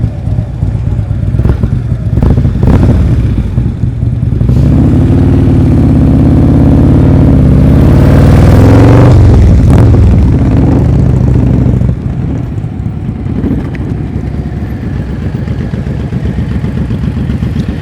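A motorcycle engine idles and revs during slow-speed turn practice, loud and close, rising into a sustained throttle push mid-way before settling back to a steady idle.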